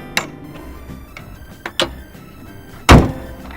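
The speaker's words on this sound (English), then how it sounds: "So, now let's close the hood." A car hood slams shut with one loud, sharp thump near the end, preceded by a few lighter clicks and knocks of handling, all close by with no talk.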